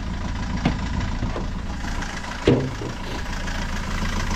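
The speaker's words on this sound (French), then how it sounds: "Et tu vois le moteur il tourne pas net." A car engine idles unevenly with a steady low rumble, broken by a couple of brief knocks or thumps, close by.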